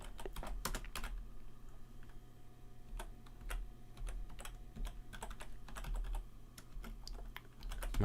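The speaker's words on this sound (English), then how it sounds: "Am I just typing in Michalowski Doctor Who and then it'll pop up?" Keys clatter on a computer keyboard in steady, uneven bursts of taps, close and fairly quiet over a low background hum, with no talking.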